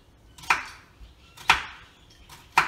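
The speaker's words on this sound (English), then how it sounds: "I'm actually really enjoying all of this chopping and this blue apron." Knife chopping food on a kitchen cutting board while preparing a Blue Apron meal kit, three crisp separate chops about a second apart, close and clear with no talking.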